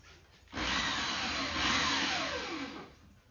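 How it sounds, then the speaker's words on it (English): A power drill whirs steadily for a few seconds while boring into a LiFePO4 battery box, starting abruptly after a quiet moment and winding down near the end. "I'm going to go ahead and drill that now"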